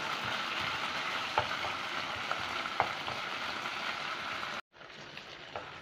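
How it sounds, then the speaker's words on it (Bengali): Chilli chicken sizzles in a pan with a spoonful of chilli sauce while a spoon stirs it, giving a steady frying hiss with occasional scraping taps. The sound cuts out sharply near the end and returns quieter. "1 চামচ চিলি সস। এটাকে ভালো করে নাড়াচাড়া করে নেব।"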